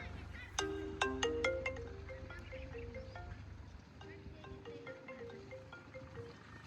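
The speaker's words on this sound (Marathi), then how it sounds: "माझा फोन आला." A mobile phone rings with a repeating melodic tone, bright and fairly close, in a rural farm setting, with a voice talking faintly underneath.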